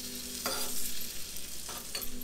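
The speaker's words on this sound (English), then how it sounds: "this is a tadka now. You can see the splattering of the curry leaves." Curry leaves spluttering in a hing and ghee tadka: a steady hot-fat sizzle with sharper crackling bursts near the start and again toward the end, close and fairly loud, no talking.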